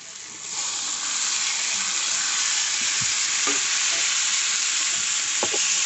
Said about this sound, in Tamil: நல்லா வதங்கி நல்லா எண்ணெய் பிரிஞ்சு நல்லா மசிஞ்சு வரணும்.